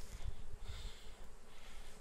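Honey bees fly around their hives on heather moorland in England, giving a faint, steady buzzing over a soft low rumble with no voices.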